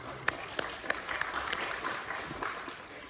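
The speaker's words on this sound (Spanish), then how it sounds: "Le damos un aplauso a la señora" An audience applauds for a woman's answer during a talk, with a few sharp distinct claps at the start followed by a softer, scattered patter of clapping from a modest crowd, fairly quiet overall.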